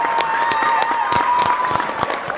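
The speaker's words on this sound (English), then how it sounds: "Another round of applause." Audience applause, a round of clapping from a crowd with a steady mix of hand claps, while a bright tone lingers faintly underneath.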